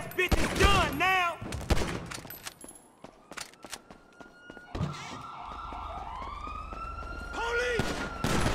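GTA 5 police siren wailing through a street scene, rising and falling tones emerging in the second half, preceded by sharp bursts of gunfire and shouting voices.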